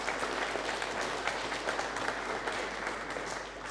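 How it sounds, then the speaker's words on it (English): A lecture audience claps steadily and evenly for several seconds at moderate loudness, a dense wash of hand claps with no voices standing out. "Give me a bit of encouragement. Come on. Sort of yays and claps and things."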